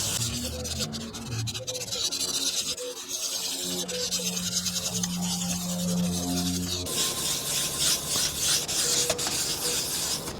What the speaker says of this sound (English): you can kind of just wet sand this